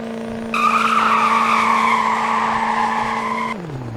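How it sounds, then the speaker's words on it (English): A 2002 Chevrolet Silverado Duramax pickup does a burnout: a sharp, sustained tire squeal kicks in abruptly over a steady engine drone, holds for about three seconds, then drops away as the engine note falls. "It even does burnouts like all the rest of them,"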